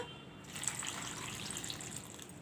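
Water runs and splashes steadily over cut green bananas in a container for washing, a continuous close trickle with light sloshing and no speech.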